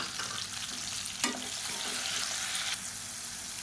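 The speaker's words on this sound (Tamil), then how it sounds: "இப்போ தக்காளி வெங்காயம் ஓரளவுக்கு வதங்கிருச்சு." Onion and tomato sautéing in a pan give a steady, close sizzle, with one brief scrape of stirring partway through and no voices.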